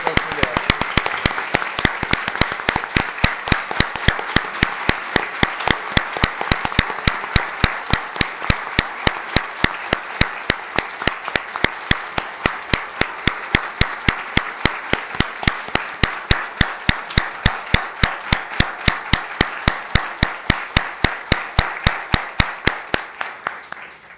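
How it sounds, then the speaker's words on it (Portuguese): A hall audience at a Seicho-No-Ie anniversary celebration claps steadily for the women present. The applause is loud and sustained, with dense, evenly spaced hand claps throughout. "Então, salva de palmas a todas as mulheres."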